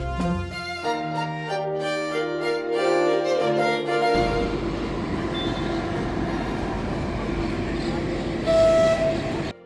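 A metro train hums and whines loudly at a station in Valencia, its motor tones shifting before settling into a steady rumble with a brief high squeal near the end.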